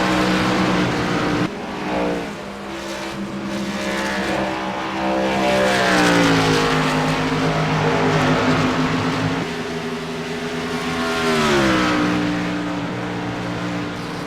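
Race cars run laps on a track in a racing league event. Several engines drone loudly and keep shifting in pitch as the cars pass and accelerate, and no one speaks.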